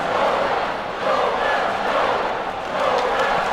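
A loud, dense arena crowd roars and cheers continuously at an ice hockey game in NHL 2K7 on PlayStation 3, a steady wash of noise without a break.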